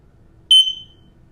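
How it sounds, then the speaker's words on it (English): A smoke alarm gives a single short, piercing electronic test beep, loud and close, ringing briefly before fading into a quiet room. "I'm going to set off the test right here. As you guys can see, I'm going to hold this down. You'll hear a beep."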